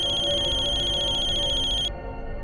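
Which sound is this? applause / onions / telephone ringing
telephone ringing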